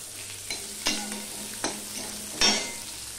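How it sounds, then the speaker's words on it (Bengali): Whole spices and a dried red chilli crackling in hot oil as a tempering for dal, with a steady sizzle broken by several sharp pops and stirring scrapes close by. "এইভাবে ডাল ফোড়ন দিলে খুবই টেস্ট হয়।"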